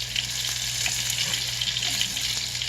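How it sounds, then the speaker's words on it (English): Steady, dense sizzling of panko-breaded chicken katsu frying in hot oil in a pan, crackling evenly throughout with no voices. "so that frying sound you hear is chicken katsu, panko breaded chicken"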